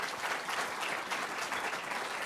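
An audience applauds a triple world skate cross champion at a Drôme sports club presentation, a dense, even wash of clapping that holds steady throughout, fairly soft and without talk.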